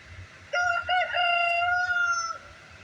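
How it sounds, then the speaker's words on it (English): A rooster gives one clear crow lasting about two seconds, close by, in a farmyard where young chickens are kept behind netting. Faint, low background noise sits under the crow. "One of the young chicks just jumped out of the fence."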